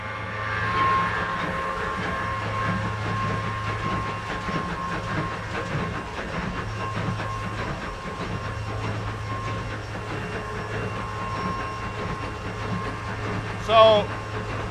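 Engine room of the 1953 coal-fired steamship SS Badger, with a steady loud mechanical hum and drone of steam turbines and generators, a brief sharp squeal near the end.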